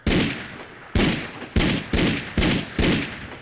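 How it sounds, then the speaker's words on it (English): Six loud, evenly spaced gunshots from a Fallout 4 weapon made louder by the Simply Louder Weapons mod, each a sharp crack with a decaying tail, close and heavy. "No, it just seems to be the gun sounds."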